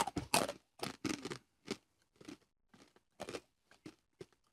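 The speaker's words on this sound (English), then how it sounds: "I feel like we should do ASMR with all the crunch sounds" Hard, crunchy corn nuts chewed close to the microphone, giving a series of sharp, loud crunches that thin into softer, scattered bites with quiet gaps between them.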